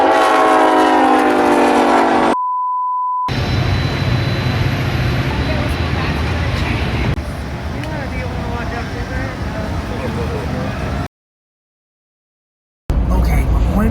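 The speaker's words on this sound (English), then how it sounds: "And look at the horn. That is the K5LA." A commuter train sounds its K5LA horn in loud sustained blasts at the start, followed by rumbling rail and wagon noise broken by abrupt cuts.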